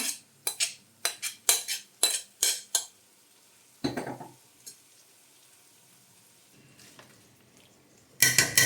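Prawns go into fried onions in a pan for prawn biryani, with a series of sharp clinks and scrapes of a utensil, then a quieter sizzle, and a final loud burst of scraping and frying.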